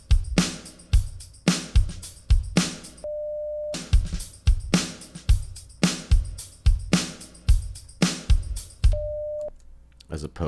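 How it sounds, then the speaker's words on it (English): A looped electronic drum pattern with punchy, deep kick hits and snappy accents, repeating steadily, broken twice by a short sustained tone. "And now our pattern sounds like this with a replaced kick drum."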